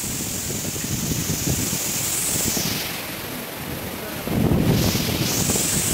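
Strong typhoon wind from Tropical Storm Kristine buffets the microphone in a steady loud roar, easing briefly midway and then gusting harder near the end, with no voices.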